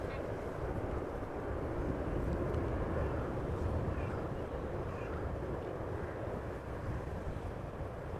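A Boeing 777 arriving at Amsterdam Schiphol gives a steady, broad jet roar that stays fairly distant and constant across the whole span, with no talk over it.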